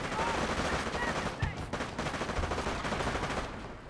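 Machine gun bunker firing in Company of Heroes, a World War II strategy game: dense, continuous rattling gunfire filling the whole stretch, with a few sharper bursts and explosions mixed into the battle din.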